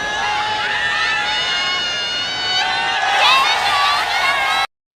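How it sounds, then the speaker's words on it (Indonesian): Spectators cheer and roar in the stands of a basketball arena, a dense, sustained wash of crowd noise with whoops and shouts that swells louder past the midpoint. "Sorak-sorai menggema di tribun,"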